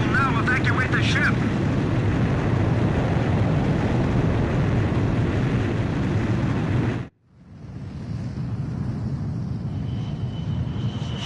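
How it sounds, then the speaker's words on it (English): A loud, sustained jet engine roar as a fighter jet launches from an aircraft carrier catapult in the video game Ace Combat 5, cutting off abruptly and then fading back in as a lower, distant rumble. "Aircraft launch confirmed."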